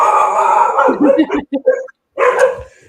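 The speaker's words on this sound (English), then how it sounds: "And the dogs are going to bark in a second." Dogs barking loudly nearby, a cluster of sharp, overlapping barks and yips in quick succession that break off briefly, then start again.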